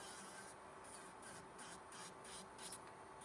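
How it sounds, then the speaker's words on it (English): Gel nail product being filed down with a coarse sanding band, a close, steady rasping scrape in repeated quick strokes with no talking. "And I'm just gonna file down the product I have."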